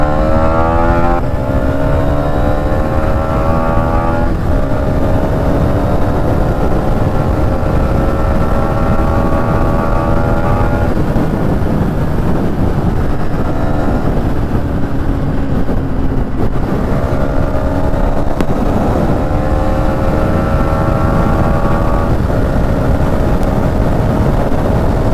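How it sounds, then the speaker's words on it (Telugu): A Hero Xtreme 250R motorcycle with a 250cc liquid-cooled engine is ridden hard, the engine note rising through the revs and falling at each gear shift under steady wind rush, loud and close throughout. "ఈ వెహికల్లో 250cc లిక్విడ్ కూల్డ్ ఇంజిన్ ఇచ్చారు."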